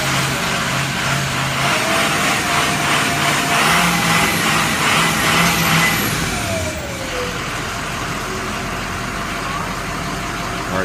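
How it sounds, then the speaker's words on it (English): A car engine runs steadily during a cold start, climbing a little in pitch as it is revved, with a rushing hiss over it and a voice talking in the background. "I'm going to rev it a little bit"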